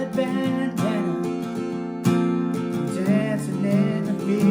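Acoustic guitar plays the verse of a song as a lesson demonstration, with steady strummed chords ringing continuously and a few sharp strum accents, close and moderately loud with no talking.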